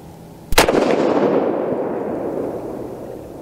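A single sharp rifle shot from a 22 ARC loaded with 29 grains of Accurate 2520 powder cracks out loud and close, followed by a long rumbling echo that slowly fades across the range.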